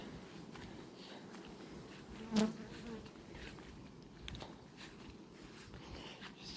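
A low, continuous buzzing of many honeybees at the hive fills the background, faint and steady, with a brief thump partway through.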